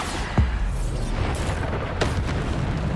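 Bombarda spell from Hogwarts Legacy going off as a deep booming blast, with a second softer burst about a second and a half later over steady background game noise.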